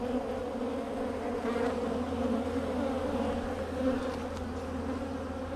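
Honey bees hum steadily at a beehive frame where a young bee is chewing out of its capped cell, a dense, continuous close-range drone with no voices.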